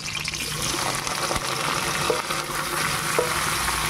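Mixed vegetables fry and sizzle in a hot wok with garlic while being stirred, a steady close hiss of oil broken by scraping clicks of the spatula, no talk.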